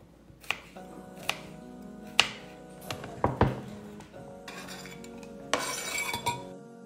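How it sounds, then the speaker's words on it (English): A knife slices three garlic cloves for chicken noodle soup: sharp taps and clinks of the blade on a board and utensils, irregular and close, with a short busier clatter near the end. "I have here 3 cloves of garlic, which I'm going to slice and then add to a mortar and pestle"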